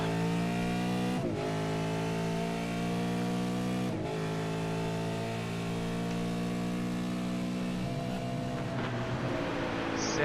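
Supercars, including a Mustang, racing at the NZ Allports V8s Enduro Cup, with engine notes sweeping past one after another and shifting pitch as they pass, fairly close and loud.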